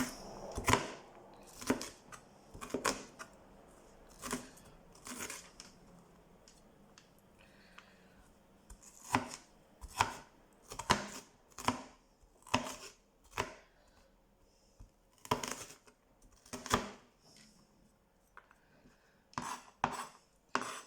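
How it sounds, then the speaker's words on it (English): A knife roughly chops an onion on a board, with sharp, fairly close thuds coming in uneven bursts and short pauses between runs of cuts. "So that's my roughly chopped onion."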